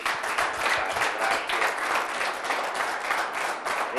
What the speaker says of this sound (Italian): con l'augurio di un applauso